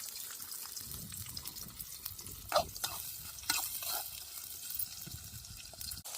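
Garlic, onion and chili sizzle softly in a pan over a riverside cooking fire, with quiet stirring scrapes and occasional clinks against the pan, fairly faint throughout.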